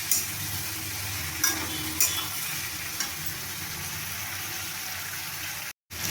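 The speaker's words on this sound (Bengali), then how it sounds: "হলুদ গুঁড়ো আর ধনে গুঁড়ো দিয়ে আমি ভালোভাবে সবজিটা ভেজে নিয়েছি" Vegetables fry in a pan with turmeric and coriander powder, a soft, steady sizzle with a few sharp clinks of a spoon stirring, no talking.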